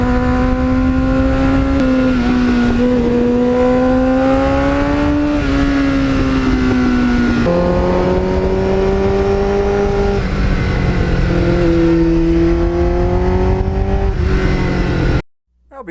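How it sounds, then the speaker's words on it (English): A 1989 Kawasaki GPX750R with a Muzzy muffler accelerates at wide-open throttle, its engine whine climbing through several gear shifts with brief dips between them, loud and close over wind rush, then cutting off at the end. "you go through the gears with that Muzzy muffler with the throttle pinned wide open"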